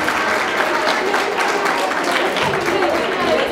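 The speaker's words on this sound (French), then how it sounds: "Donc je vous demande de les applaudir pour les donner du courage." Audience at a high school science club quiz final applauds the finalist classes, a dense, steady roar of clapping from many hands that holds evenly throughout.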